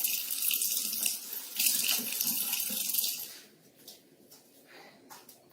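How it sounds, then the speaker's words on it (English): Hands are washed under a running tap at a kitchen sink, a loud close splash of water that cuts off midway and leaves faint drips and handling sounds, with no talk. "I'll finish washing my hands here"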